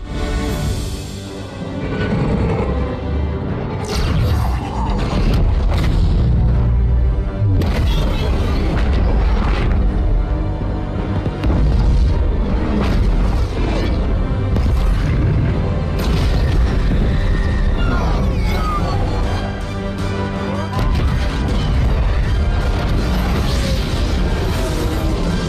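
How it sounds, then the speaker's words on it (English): A Covenant carrier exploding above Earth in the Halo 2 level Cairo Station: loud, sustained booming and rumbling blasts with crashes, continuous across the whole stretch and mixed with swelling orchestral game music. "And as the Covenant carrier explodes above Earth, Cairo Station draws to a close."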